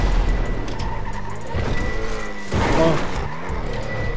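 In a GTA RP car-crash platform game, vehicles and a rolling truck skid and collide, with engine roar, squealing tyres and a heavier impact burst midway, all under a brief spoken exclamation.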